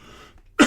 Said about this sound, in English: cough into the mic